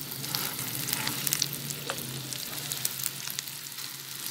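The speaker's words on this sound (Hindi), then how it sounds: "ये ज़ीरा भून रहा है, अब मैं इसमें ये भुरता डालूंगी" Cumin seeds and mashed potato filling for aloo paratha fry in hot oil in a pan, giving a soft, continuous sizzle with scattered crackles and pops close by.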